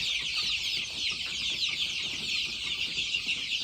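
Desi chicks and chickens at a poultry farm fill the air with constant, dense clucking and chirping, a busy flock heard close by without pause.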